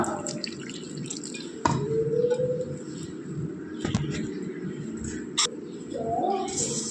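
Water is added bit by bit to chapati dough during kneading. Close, small drips and light splashes come in irregular bursts, with a few sharp clicks in between.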